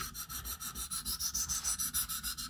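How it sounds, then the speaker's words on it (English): An M390 steel knife blade being sharpened on a fine stone makes a close, steady rhythm of soft rasping strokes, about six per second, each a quick hissing scrape of even loudness with no voices. "I'm sure you can hear the difference between stones, how much finer it sounds."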